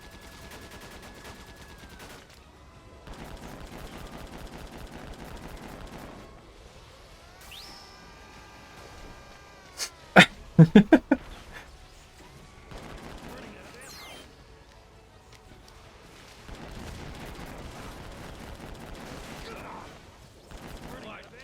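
Gunfire in Disaster: Day of Crisis, a short cluster of sharp, loud shots rising out of game music and effects midway, with talk heard around it.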